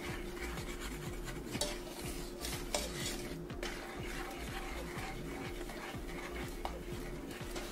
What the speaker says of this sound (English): I'm just stirring at this point to make sure that our sweetener and our butter are well combined